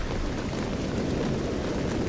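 Rain falls in the S.T.A.L.K.E.R. game, a dense, steady hiss of drops with a faint low rumble underneath, continuous and even, with no voices.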